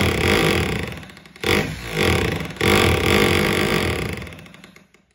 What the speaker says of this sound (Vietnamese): Đục bê tông đây.